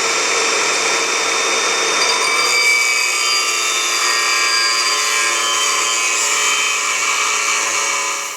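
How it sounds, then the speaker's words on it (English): A 4-inch angle grinder cuts steadily through a 1/4-inch-thick steel hydraulic pump bracket on a Peterbilt 352 heavy wrecker, giving a loud, continuous high-pitched whine with ringing tones that holds for several seconds before winding down. "with this 4-inch grinder."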